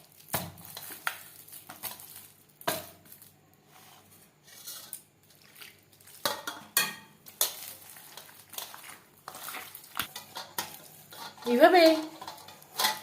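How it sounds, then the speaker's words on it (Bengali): Palm fruit pulp squeezed and worked by hand after peeling, giving soft wet squishing and stirring sounds in irregular bursts, with a few brief spoken words. "তালের রস বের করে নেব।"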